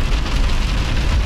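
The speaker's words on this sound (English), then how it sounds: "It's pouring rain." Pouring rain makes a dense, steady hiss and patter, loud and close and unbroken throughout.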